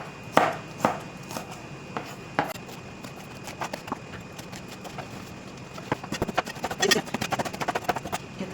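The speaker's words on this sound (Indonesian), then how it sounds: "kita iris ini ya, paprika ya" A knife slicing bell pepper on a cutting board for homemade pizza, a series of crisp close taps, sparse and uneven at first and then faster and denser toward the end.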